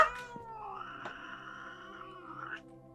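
A cat in Minecraft lets out a few drawn-out wavering meows in quick succession, clear and close against a quiet background.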